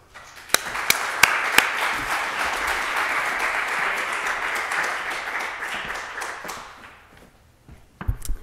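Audience applause welcoming a speaker at a talk on Christian drug rehabilitation centers in Guatemala, a steady clatter of many hands with a few sharp claps near the start, fading out after about seven seconds.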